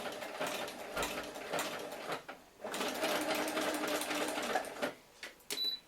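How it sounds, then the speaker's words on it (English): Sewing machine running a line of backward stitching on a flag poi handle, a close, rapid mechanical whirring in steady bursts with brief pauses between runs. "I'm going to just do a line of backward stitching, so I've got 3 rows of stitching before I finish off."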